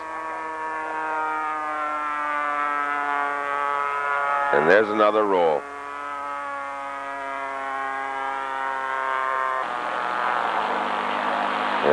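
The 3.7 Q65 two-stroke engine of a 1/3 scale Fokker D7 model plane hums continuously in flight at a scale-model contest, its pitch shifting slightly, with a commentator speaking briefly over it.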